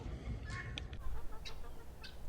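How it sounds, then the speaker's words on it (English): Guinea fowl on a homestead call out in a few sharp, raspy bursts over a muddy outdoor background, fairly faint and at a distance. "Look at these guineas out here, ain't they something? These guys are always running around making all kinds of racket."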